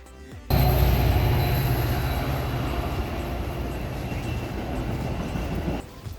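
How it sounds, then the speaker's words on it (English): A train rumbles past close by at an art fair, its loud, steady roar and rattle of wheels on track running continuously for several seconds before cutting off. "Except for the train!"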